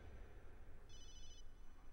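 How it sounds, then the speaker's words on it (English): A cell phone rings in the survival horror video game ObsCure, a short electronic trill in a quiet, droning game scene, faint and sounding alone without any speech. "That must be Ashley calling. I should have turned off my cell phone."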